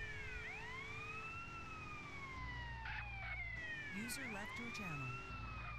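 Police car sirens in GTA LSRP role-play, several wailing and yelping sirens overlapping and sweeping up and down, steady and prominent over a low engine rumble throughout.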